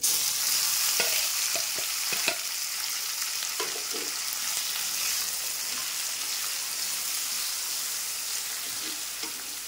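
Ground chutney being stirred into a sizzling tempering, with steady frying hiss throughout and several soft spoon scrapes and clinks near the start, close and alone with no talking.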